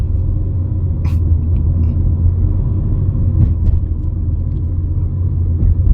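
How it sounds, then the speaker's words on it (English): A 2014 Nissan Sentra S engine strains under hard acceleration, a dense low rumble and road drone heard from inside the car, steady and loud with a few faint clicks above it. "you can hear the engine. It is working overtime from being in overdrive."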